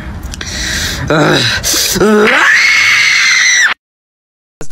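A voice imitates Gohan's scream, building from strained cries into a loud, piercing sustained scream that cuts off abruptly into silence.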